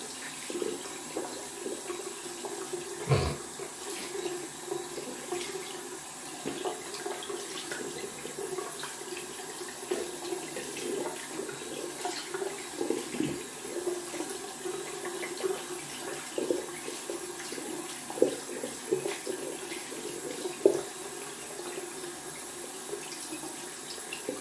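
Tap water runs steadily into a bathroom sink as a shaving brush is rinsed, a continuous close splashing hiss with small bursts of louder spatter.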